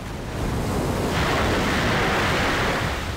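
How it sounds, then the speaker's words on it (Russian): Heavy ocean waves crash in the video game Cold Fear, a broad continuous roar of surf that swells louder partway through, with no talk over it. "Ни хрена там волны"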